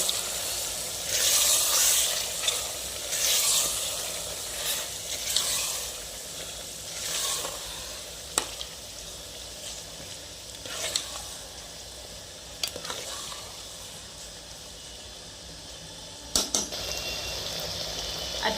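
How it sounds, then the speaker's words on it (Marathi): Mutton sizzles in a hot pan while being cooked for biryani, a steady frying hiss broken by scraping stirs and occasional sharp clinks of the spoon against the pan. "आता आपण यामध्ये मटण टाकणार आहोत."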